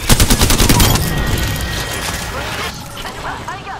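Rapid bursts of gunfire in a ranked battle-royale shooter video game, a loud rattling volley at the start that thins into continuing shots and game effects.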